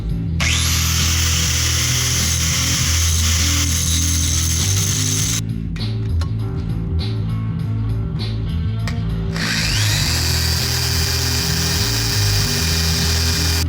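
A power drill whines steadily while drilling out a broken bolt on a 1996 Honda XR600R, stopping briefly in the middle with clicking, ratcheting sounds before spinning up again; close and loud, with no talking.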